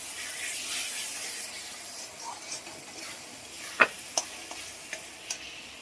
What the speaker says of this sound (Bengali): রসুনটাকে আবার ভালোভাবে ভেজে নেওয়া হবে কাঁচা গন্ধটা ছাড়া পর্যন্ত।